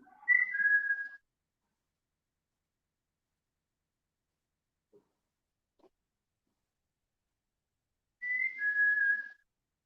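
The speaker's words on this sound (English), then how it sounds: "Did somebody else just whistle?" Two short rising-and-falling whistles during a nighttime ghost vigil at a brickworks, one at the start and one near the end, separated by near silence with a couple of faint taps.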